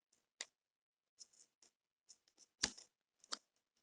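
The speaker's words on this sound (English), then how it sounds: "put my poor scissors to the test, cutting this waxed" Scissors snip through waxed thread in a quiet room: a handful of crisp, close metallic cuts and clicks, irregularly spaced, with one louder snap near the middle and nothing else audible.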